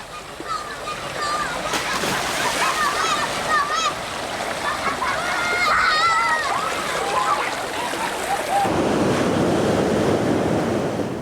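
Rushing water and surf on the coast of Bali, a steady loud wash of waves with splashing and wind, and voices mixed in over the noise.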